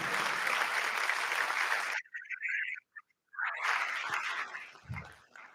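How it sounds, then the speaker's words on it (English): Loud crowd applause at a senior awards night, sustained, breaks off into near silence with a few scattered claps, then swells again into steady clapping. "Round of applause"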